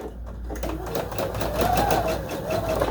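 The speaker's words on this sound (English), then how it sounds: "we're just going to flip these around and sew right down the other" Sewing machine stitching steadily down the other side of a seam, a continuous close whirring hum with a rapid needle rhythm and no pauses.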